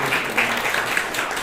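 A church congregation at a Sunday service claps in a brief, steady patter to welcome a newcomer, a dense mass of hands at moderate loudness with no voices over it.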